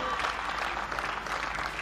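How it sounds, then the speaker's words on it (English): Warm applause from a tennis crowd at a 2021 Belgrade first-round women's match, a steady dense wash of clapping held at even volume throughout, with faint voices mixed in. "Warm applause, and rightly so."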